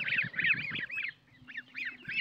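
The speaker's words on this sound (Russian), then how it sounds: "Вот гуси только отвечают." Young geese housed together with ducks, 22 days old, honk close by in quick repeated bursts with a short lull in the middle before the calling picks up again.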